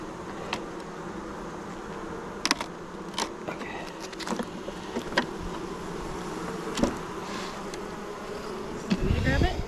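Honeybees hum steadily during a beehive inspection, a close, dense buzz with occasional louder passes of individual bees near the microphone and faint handling knocks.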